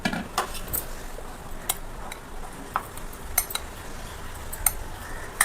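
Spoon mixing curd into green rice in a bowl, with sparse light clinks of metal against the dish over a soft, steady stirring background.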